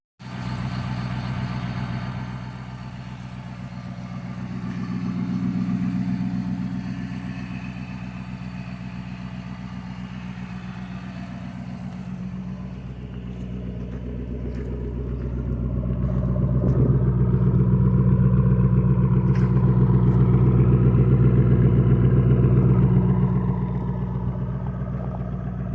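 A repaired HEMI V8 in a Chrysler 300 runs steadily close by, its low rumble holding a constant idle and swelling louder partway through, with a high whine fading out midway and light clatter mixed in.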